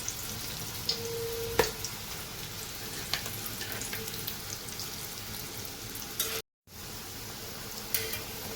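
Alu vadi, sliced colocasia-leaf rolls, shallow-fry in oil on a hot tawa with a close, steady sizzle and scattered small pops and crackles, broken by one brief dropout.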